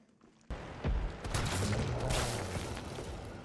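Gunfire in the video game Resident Evil 3: a sharp shot bursts in after a quiet start, then a dense, loud run of blasts and booming impacts carries on to the end with no talking.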